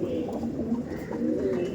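Pigeons in a loft, many of them mature birds, give low repeated cooing that stays close and steady throughout, with a busy hum of other birds behind.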